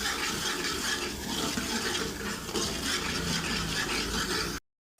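Spice masala with chili powder roasting in a pan for dhaba-style akkha masoor gives a steady close sizzle with scraping stirring, continuous for several seconds before cutting off into silence.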